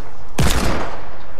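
A purple hand cannon fires in the Fortnite video game, with one loud, sharp blast that rings out and decays over about a second, heard alone with no talking.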